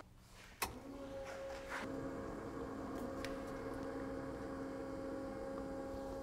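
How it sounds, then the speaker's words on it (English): A car's electric water pump runs with a steady, faint whine and hum after a brief click at the start, continuing evenly at low level with no one speaking. "Let's turn on a water pump on the car."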